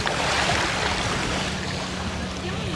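A boat speeds past on the sea off the beach at Vityazevo near Anapa: a steady low motor drone is blended into loud, continuous rushing wash of wind and surf, with no clear approach or fade and no talk.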